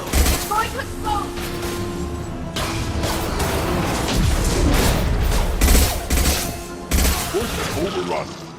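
Loud combat scene from the video game Mass Effect 2, with a burst of rapid gunfire and repeated heavy blasts and booms layered over a dense roar, continuing for several seconds with voices shouting in the mix.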